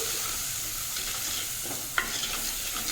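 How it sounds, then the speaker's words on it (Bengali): Spinach and vegetables with turmeric, chili and coriander-cumin powder being stirred and fried in a pan: a steady close sizzle with scattered scraping clicks of the spatula and one sharper knock near the end. "ভালো করে নাড়িয়ে একটু ভাজা ভাজা করে নেব।"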